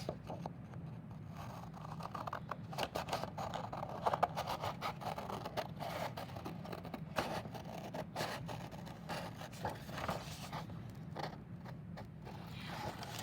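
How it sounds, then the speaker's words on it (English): Steady snipping and scraping of scissors cutting through paper, close up, with a soft continuous rustle and no talking. "And then use your scissors to cut it out."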